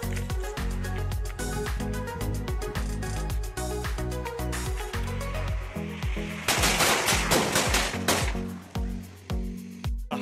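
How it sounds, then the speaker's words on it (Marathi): Rapid strings of Diwali firecrackers crackle and pop continuously, sharp repeated bangs running together, growing denser and louder in a burst near the end. "मस्त फटाके फुटत आहे"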